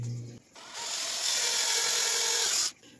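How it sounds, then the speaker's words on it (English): A power drill bores holes through flat spots on a homemade egg tumbler, a steady high-pitched whine running for about two seconds after a short start, close and loud with no talk. "we're going to drill holes at every like flat"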